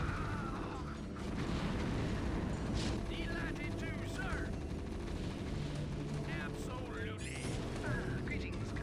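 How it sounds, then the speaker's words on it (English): A StarCraft Terran battle is dense with gunfire, artillery blasts and explosions, a constant rumbling barrage at moderate volume with sharp bursts on top. "Between nukes, a rush of infantry, and artillery support, their base falls quickly."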